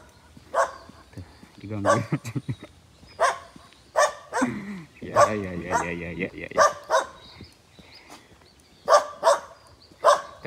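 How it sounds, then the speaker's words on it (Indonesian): Several dogs near houses by a Bali beach bark in repeated sharp bursts, close and loud, with a person speaking between barks. "Aduh, di sini banyak anjing, teman-teman."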